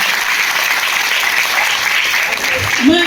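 Loud, continuous applause from an audience at a Hindi comedy poetry event, a thick steady roar of clapping filling the whole stretch, with a brief voice near the end.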